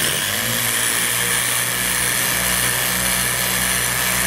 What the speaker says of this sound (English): This little Festool sander really comes in handy for this stuff.